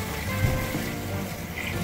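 Water pouring steadily into a cooking pot of beef trotters for paya, a continuous close splashing rush that holds at an even level throughout.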